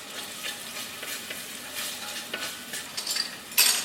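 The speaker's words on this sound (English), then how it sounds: "I'm just gonna brown the onions" Onions browning in olive oil in a cast iron dish, a close, steady sizzle broken by occasional scrapes and clinks of a utensil stirring.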